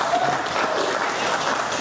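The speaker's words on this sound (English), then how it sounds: "round of applause for Steve Maguire." Dense, loud, continuous audience applause for Stephen Maguire, a steady wall of many hands clapping throughout, with no clear talking.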